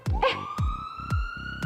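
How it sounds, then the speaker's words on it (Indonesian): An ambulance siren sound effect: a loud, close electronic wail that stays in the foreground, broken by repeated low thumping pulses. "Kok ada suara ambulan ya?"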